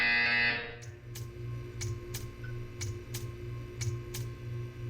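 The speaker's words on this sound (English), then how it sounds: "You will hear a buzzer." A loud buzzer in Portal 2 sounds briefly and cuts off, followed by a faint regular ticking that repeats at an even pace over a low hum.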